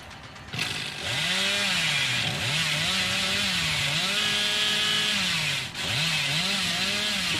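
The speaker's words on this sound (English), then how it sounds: "The chainsaw is basically useless here." A roaring chainsaw revved by the killer in the horror video game Dead by Daylight, droning loudly and continuously with rising and falling pitch swells and a brief dip near the end.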